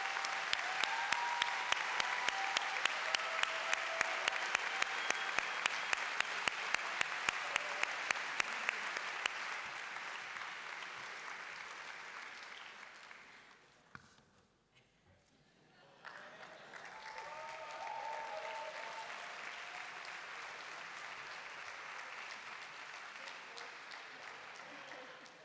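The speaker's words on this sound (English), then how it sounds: "Let's give them another round of warm applause for their outstanding work." A large audience at a World Scout conference session breaks into sustained warm applause, with dense clapping that fades into a short lull and then swells again, and a few voices faintly underneath.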